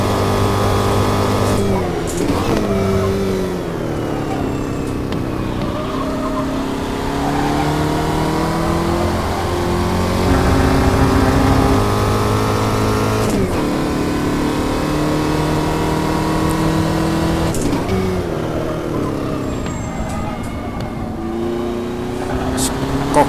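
Formula Vee race car engine in a Reiza Studios sim racing game at Buenos Aires, droning and revving steadily through gear changes, rising and falling in pitch for the whole stretch, under occasional talk.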